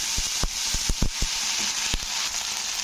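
Ginger-garlic paste frying in hot oil in a kitchen pan, a steady bright sizzle punctuated by about eight sharp spatula knocks and scrapes as it is stirred, without any talking.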